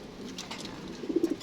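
A pet pigeon coos softly, a short run of low repeated coos building near the end over faint background noise.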